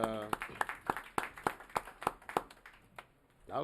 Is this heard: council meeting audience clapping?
yes